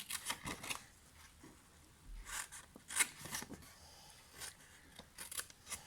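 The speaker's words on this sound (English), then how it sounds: "now we're going to cut up these other 3 score lines" Small snips of scissors cutting score lines on a 6x6 paper party favour gift bag, a quick irregular series of crisp close clips with short pauses, quiet and without talk.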